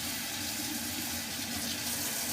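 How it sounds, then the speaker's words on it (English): A vegetable is rinsed under a running kitchen tap, giving a steady, close, continuous hiss of flowing water with no speech. "we're going to rinse this out. Rinse it out real good"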